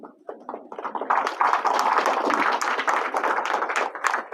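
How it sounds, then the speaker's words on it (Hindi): An audience at a college graduation day standing up and clapping for their teachers, starting with a few scattered claps that quickly build into sustained, close, lively applause. "असातिज़ा के लिए मैं चाहूंगा कि खड़े होकर तालियां बजाएं"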